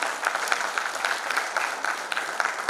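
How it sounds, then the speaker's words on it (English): Audience at a digital transformation conference applauding a panel discussion, steady mid-level clapping with some sharper individual claps standing out, sustained throughout. "Can we have a huge round of applause once again,"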